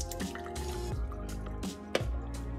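Water from a tofu press is poured out in a quick series of close, wet drips and splashes, repeating in short bursts.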